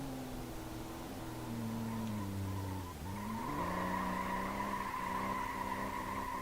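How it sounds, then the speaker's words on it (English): A truck in the BeamNG driving simulator does burnouts, its tires squealing in a steady, loud screech with a deep engine drone underneath. The pitch dips and climbs midway as the spinning wheels shift, and no one speaks. "Okay, now we're just doing burnouts."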